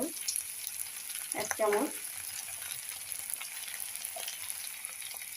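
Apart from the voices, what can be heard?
stirring boiled peas in frying cauliflower singara filling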